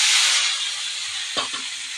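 Leafy greens fry in a hot pan with a loud, steady hiss of sizzling that eases slightly, broken by a brief clatter near the end. No voices are heard.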